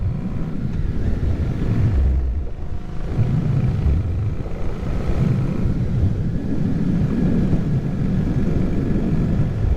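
Harley-Davidson motorcycle cruising at about 45 mph, a steady low engine rumble mixed with heavy wind buffeting on the microphone, continuous throughout with no talking.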